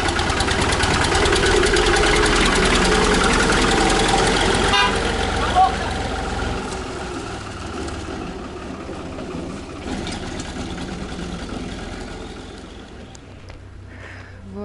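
A tractor engine idles and chugs in a Turkish village, a steady mid-pitched rumble that fades slightly toward the end, with a brief horn-like toot and voices in the background.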